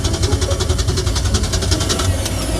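A budget boat's outboard engine cranks over after a spray of carb cleaner, giving a steady, fast, rhythmic churning and whirring that stays loud and close throughout without catching, with no talk over it.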